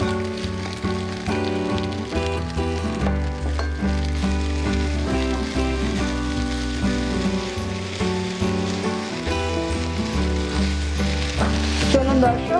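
Green and red peppers sizzle while frying in a pan, a continuous crackling hiss under steady background music.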